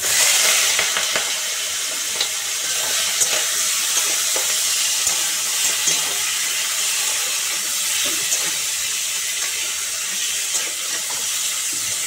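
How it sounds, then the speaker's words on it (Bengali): Prawns frying in hot mustard oil in a wok, a steady broad sizzle and hiss with faint stirring clatter running continuously, close and fairly loud, with no voices. "চিংড়ি মাছের ডালনা করার জন্য প্রথমে সর্ষের তেলটা কড়াইতে গরম করে নিয়ে চিংড়ি মাছগুলো"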